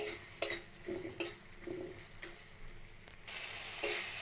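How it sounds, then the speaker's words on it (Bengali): A sweetened spice paste fries quietly in a pan, low sizzling under a few sharp scrapes and taps of a spoon stirring it. "মশলাটা প্রায় কষানো হয়ে গেছে"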